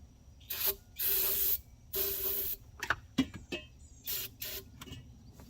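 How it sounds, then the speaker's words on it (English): Brake cleaner sprayed into the engine of a 1987 Mercury Grand Marquis LS, several short hissing bursts from an aerosol can at close range, separated by brief pauses and small handling noises. "I have brake clean. That's flammable, so we're going to give that a little."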